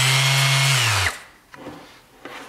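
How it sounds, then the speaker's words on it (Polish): A Mirka Deros random orbital sander whirs loud and close, its pitch dips slightly as it is pressed, then it spins down to quiet with a few faint knocks after. "siła docisku też powoduje, że szlifierka będzie działała szybciej bądź wolniej"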